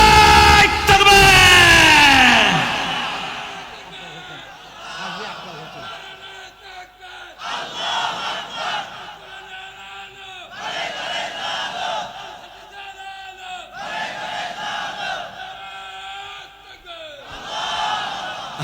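A large crowd at an outdoor Islamic religious sermon roars the takbir chant in response, opening with one loud massed bellow, then repeated shouted bursts rising and falling in a steady rhythm.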